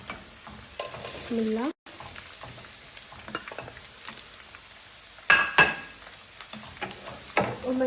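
Fried potatoes stirred into onions sizzling in ghee, a steady close sizzle with scraping stirs and a few louder clatters of the spoon, while a voice speaks briefly.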